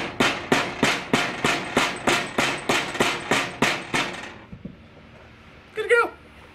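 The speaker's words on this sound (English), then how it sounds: "Hit it with a rubber hammer and it's on there." A rubber hammer taps a dust cap onto the front caster arm of a stand-on commercial lawn mower, about a dozen even, loud, close strikes in a steady rhythm, followed by a brief rattle and a short clank.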